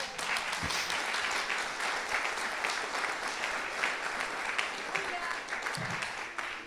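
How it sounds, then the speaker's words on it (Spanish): A church congregation applauds during a worship service. The clapping is steady and crowded, fairly distant and moderately quiet, and it holds for several seconds with a couple of low thumps. "Dale ese aplauso a Jesús otra vez."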